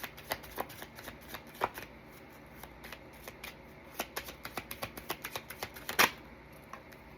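A deck of Healing Energy Oracle cards is shuffled by hand in quick, soft riffling bursts and snaps, close and fairly quiet, with a louder flick near the end and no talking.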